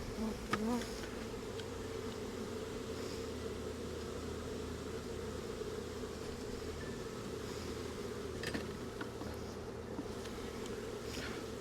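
Swarm of honey bees humming during a package installation into a hive, a dense, steady drone close by that holds evenly throughout with no talk.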